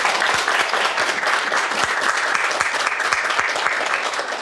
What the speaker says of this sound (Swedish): Välkommen och stor applåd åt Bosse.